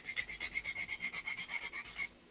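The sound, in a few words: sanding sponge rubbing surface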